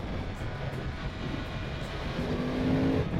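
Yamaha YZF-R1 superbike with its crossplane four-cylinder engine, heard while riding on the road: a steady, dense engine roar with wind noise, swelling slightly louder near the end as a rising tone appears, no talking.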